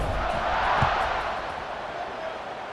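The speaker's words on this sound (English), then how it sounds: "this crowd is buzzing after that last score" Stadium crowd buzzing after a score in the College Football 26 video game, a broad moderate roar that swells and then eases slightly over a few seconds, with no talk over it.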